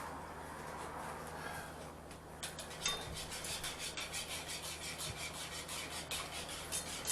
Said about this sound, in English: you're going to want to whisk that up again